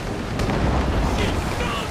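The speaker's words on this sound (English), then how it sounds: "Cannon ready! Fire!" Ship cannons fire in a naval battle in the video game Assassin's Creed Rogue, with heavy booming blasts and rumbling over a constant roar of wind and sea, mixed with shouting voices.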